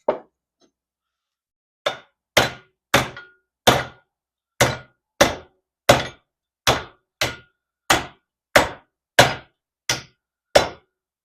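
Hammer blows strike rusted metal clamped in a vise during fabrication on a rotted-out 1979 Plymouth Volare wagon, with a dozen loud, sharp, evenly spaced whacks after a single opening hit and a short pause.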